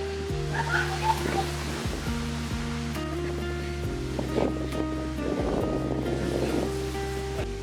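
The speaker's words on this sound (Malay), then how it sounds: "Masya Allah angin malam ni." A steady night wind at a campsite beside large rocks rushes and roars continuously, with a low hum underneath and no speech.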